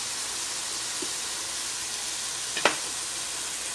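Chicken spring roll filling with soy sauce and hot sauce sautés in a pan, giving a steady, even sizzle throughout, with one brief utensil clatter near the end.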